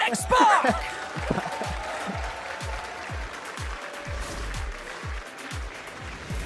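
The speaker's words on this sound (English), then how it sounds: "The applause is yours" An audience applauds at a Brawl Stars championship watch party, a dense steady clapping wash with some cheering that fades slightly, while a voice talks over it.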